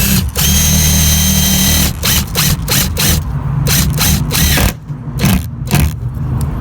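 A power driver sends a screw through a metal parking sign during installation, with loud, close bursts of whirring and ratcheting broken by short pauses as the trigger is stopped and restarted.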